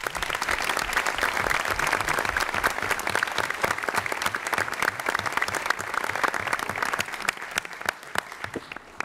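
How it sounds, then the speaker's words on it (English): Sustained, dense applause from a conference audience for three presenters at Governor Cuomo's NY Rising Community Reconstruction event, steady and loud throughout with no break. "How about a round of applause for our three presenters?"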